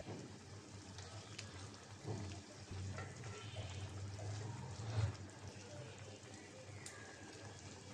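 Fried koi fish and fish roe go into a hot pan with a steady, soft sizzle. A few stirring clatters and scrapes rise over the frying, and a faint voice sits in the background.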